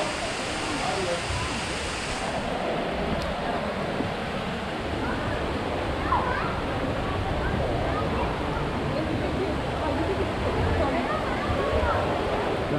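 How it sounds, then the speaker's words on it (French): A waterfall at Gardens by the Bay in Singapore rushes as a dense, steady roar that fills the whole clip, close and constant, with a voice speaking beneath the noise. "on est monté en haut de la cascade"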